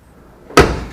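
The door of a Ford Falcon restomod under restoration, fitted with a makeshift part to help it shut, closes with one sharp, close solid slam after a quiet moment.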